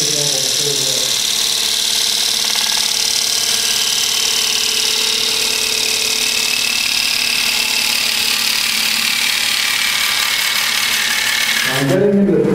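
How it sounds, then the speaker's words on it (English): A gouge cuts wood on a spinning lathe, riding the bevel through a steady forward cut, with a loud, continuous whirring hiss throughout and a brief change in tone at the end. "bring the tool up to the horizontal, and progress forward with the cut"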